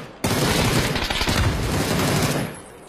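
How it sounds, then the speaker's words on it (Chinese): A video game shootout opens with a loud, close burst of rapid automatic gunfire. It continues as a dense fusillade for a couple of seconds, then fades out. "打枪了，打枪了！"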